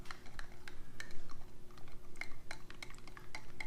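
A spoon stirs an MRE lemonade drink in a cup, giving light clinks and scraping taps repeated at an irregular pace, close by and fairly quiet.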